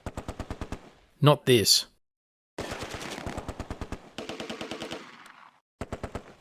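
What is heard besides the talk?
MG42 machine gun fire in video game Close Combat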